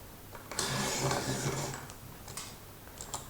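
The adjustment on a pastel pencil sharpener is loosened, giving a brief, close, faint mechanical ticking and grinding that lasts about a second and a half, followed by a few light clicks.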